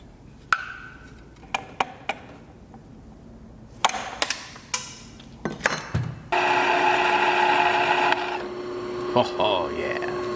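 Loose clanks and taps of metal parts from a Honda CBX clutch, then a power drill starts up and grinds steadily through a rivet for the last few seconds, close and fairly loud.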